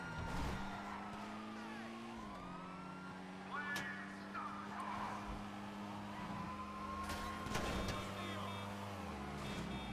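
A front-wheel-drive car in the video game GTA V drives under steady, droning engine tones that rise and fall through gear changes, with brief tire-skid squeals over the top.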